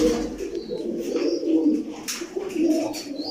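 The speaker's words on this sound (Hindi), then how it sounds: "ये कबूतर है माशाल्लाह से" A pigeon coos close by in soft, repeated throaty rolling phrases, alone without talk.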